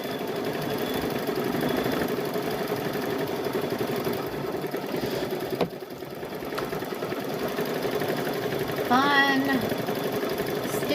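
A quilting machine stitches out a patchwork gnome quilt with a steady, close mechanical hum and rapid vibrating rattle throughout, while a person briefly speaks over it.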